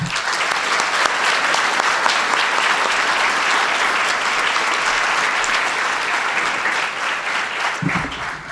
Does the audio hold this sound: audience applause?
yes